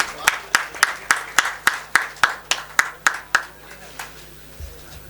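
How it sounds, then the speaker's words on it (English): One person claps steadily at a tech meetup, about a dozen evenly spaced crisp claps close by, then they stop and a faint room hum remains. "Have a big round of applause for them."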